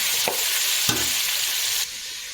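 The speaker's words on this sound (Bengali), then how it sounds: "হাই হিটে রেখে তিন থেকে চার মিনিট আমলকি তেল আর মশলাগুলো একটু আমি নাড়াচাড়া করে" Amla (Indian gooseberry) and spices fry in hot oil over high heat with a steady, close sizzle, broken by two sharp spatula scrapes as the mixture is stirred, before the hiss drops lower near the end.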